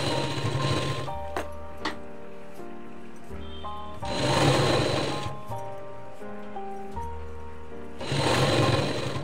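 A sewing machine stitches a katori blouse, the needle running alongside the piping on the neckline, in two loud bursts of rapid whirring with a quieter, steady hum and faint background sounds between them.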